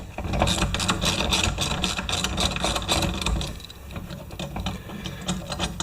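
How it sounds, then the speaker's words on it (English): Metallic ratcheting and clanking as a Briggs & Stratton flywheel remover tool is worked on a Poulan Pro mower, a steady close run of rapid mechanical clicks and scrapes with no talk. "we'll take our wonderful Briggs & Stratton flywheel remover tool"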